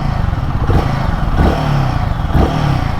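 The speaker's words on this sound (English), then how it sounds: "Let's hear the exhaust once." Royal Enfield Guerrilla 450 motorcycle running near at idle, a steady low exhaust burble with a few brief revs rising and falling, no talk over it.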